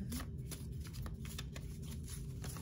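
Tarot cards being shuffled and dealt, a continuous papery riffling and slapping with brief flicks as cards fall, close and steady throughout.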